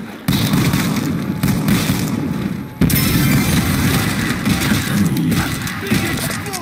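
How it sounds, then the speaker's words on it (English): Booming explosion in Call of Duty: World at War custom zombies, two dense loud bursts with a sharp restart near the three-second mark, rumbling continuously in the foreground. "Big explosion!"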